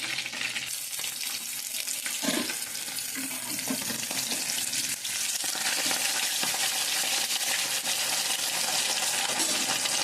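Fish fries in a pan with a continuous close sizzle, punctuated by occasional crackles, small clinks and stirring noises, without any talking.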